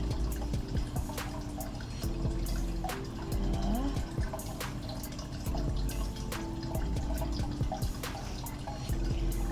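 Water flows in a snail aquarium tank, heard as continuous bubbling and trickling with frequent sharp drips and splashes at close range.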